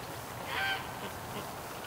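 A single goose honks faintly at a distance, a brief nasal call rising over steady outdoor background noise.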